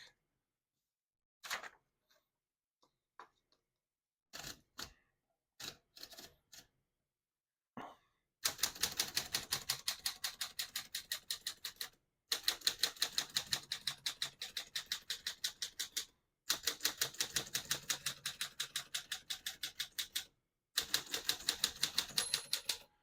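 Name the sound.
typing on vintage manual typewriter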